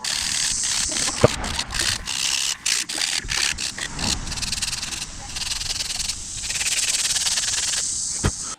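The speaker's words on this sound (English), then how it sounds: "we're going to get a sanding block, and now we're going to get this all nice and straightened out" Steady rasping strokes of a sanding block rubbing back and forth across a handmade musky fishing lure, close up, with occasional sharp clicks and a continuous hiss.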